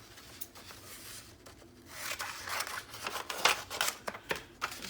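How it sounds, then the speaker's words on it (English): Scissors snip through paper while trimming a folded pocket for a handmade journal, giving a run of close, crisp cuts and rustles that gather pace toward the end, with no talking. "so I'm going to trim it"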